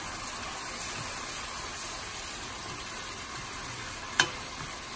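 Garlic and onions frying in a pan until crispy, a steady close sizzle with faint stirring and one sharp clink near the end.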